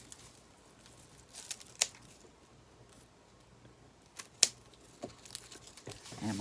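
A few quiet, sharp snips of scissors trimming craft material for a pumpkin decoration, spaced irregularly against a near-silent background.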